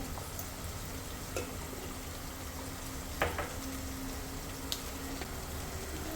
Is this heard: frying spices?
yes